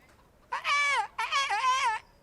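A video game character in a medieval setting sings a warbling, high-pitched imitation of birdsong in two sustained trilling phrases, each about half a second long and separated by a short pause.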